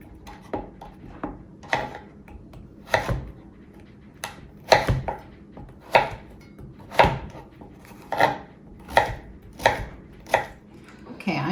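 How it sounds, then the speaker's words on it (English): A knife cuts zucchini into long slivers on a cutting board, about a dozen crisp chops in an uneven rhythm that grows firmer and more regular, close and clear with no talking. "So I'm going to cut the zucchini so it has long slivers"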